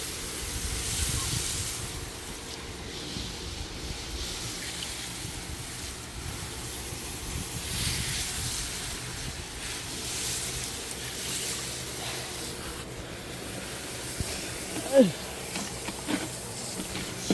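Water hissing and spraying from a hose while watering plants outdoors on a hot late-August day, a steady broad wash over wind noise, with someone talking now and then over it and a few brief louder splashes near the end.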